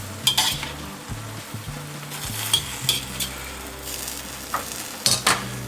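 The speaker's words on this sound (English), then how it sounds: "this into stir fry and give it a little bit of a swirl." Plant-based chicken-free chicken stir fry sizzles steadily in a hot pan while utensils scrape and clatter against it in repeated stirring strokes, close and continuous with no voices.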